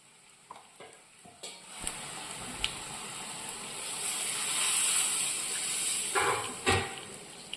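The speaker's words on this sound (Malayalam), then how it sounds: "ആ ചെമ്മീന് വേവാൻ ആവശ്യത്തിനുള്ള വെള്ളം ഒഴിച്ചു" Water pours into a hot pan of prawns, setting off a steady sizzle and hiss with a few clinks of utensils; the hiss swells midway and fades.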